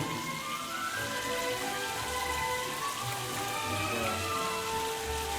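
Running water floods a room in the What Remains of Edith Finch video game, a steady splashing patter like heavy rain that continues evenly throughout, with soft tonal music underneath.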